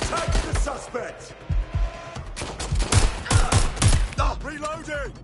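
Rapid gunfire in a shooter video game, with repeated sharp cracks and bursts filling the whole stretch at close range, mixed with shouting voices and game noise.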